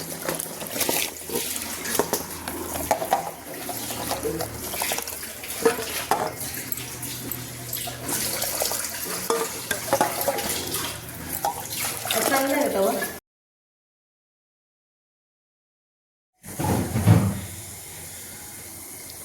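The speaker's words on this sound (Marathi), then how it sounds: "तर त्यात आपण हा भिजवून ठेवलेला जो राईस आहे तो घालून घ्यायचा आहे." Soaked rice poured into a pot of water at a rolling boil for chicken biryani, with splashing, bubbling and steamy hiss, then a short silence and a final burst of noise as cooking carries on.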